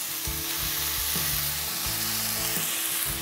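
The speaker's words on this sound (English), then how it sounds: "we're just gonna let all this cook until the bacon is cooked through and a little bit crisp" Bacon and one large minced onion crackle loudly in a hot skillet, a dense continuous sizzle close up, with a low droning hum underneath.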